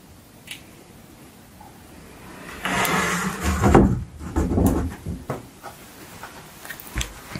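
A wooden drawer slides open or shut indoors, giving a burst of scraping, knocking wood noise mid-clip followed by a few lighter clunks and taps, with quiet room tone before and after.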